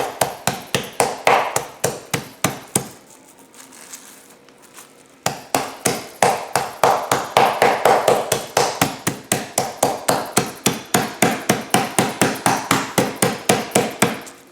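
A 5.5 to 6 ounce pork cutlet is pounded flat to about a quarter inch for paillard, a long series of sharp, rapid, loud thuds close by, with a brief pause before the steady blows resume.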